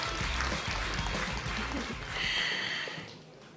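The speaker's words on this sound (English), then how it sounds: "A round of applause for our second winner," An audience at an innovation awards ceremony in Moldova claps steadily for a winner, a dense wash of applause that carries on throughout and thins slightly toward the end.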